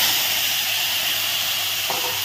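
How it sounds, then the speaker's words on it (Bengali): Small local fish, a second batch, fry in hot oil reused from the first, giving a dense, steady close-up sizzle and hiss that carries on unbroken with no voices. "এখন তুলে পরে একই তেলে পরের বারেগুলো দিয়ে দিচ্ছি"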